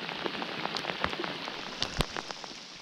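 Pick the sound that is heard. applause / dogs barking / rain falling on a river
rain falling on a river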